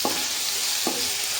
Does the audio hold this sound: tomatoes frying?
yes